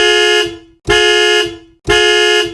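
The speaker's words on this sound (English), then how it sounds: "The alarm is going off." A Chevrolet anti-theft car alarm blares its horn in three loud, sustained honks, each lasting under a second and separated by brief gaps, close by with no voices.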